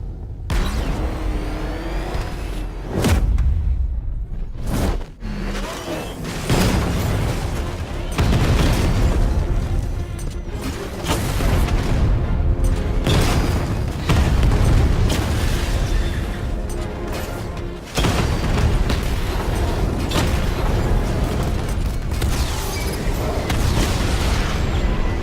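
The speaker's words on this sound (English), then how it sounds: "Your 60mm cannon will penetrate these heavily armored units, but it'll take a few direct hits to destroy them." Tank cannon fire and explosions in Batman: Arkham Knight, loud repeated booming blasts in quick succession under a constant rumbling game soundscape.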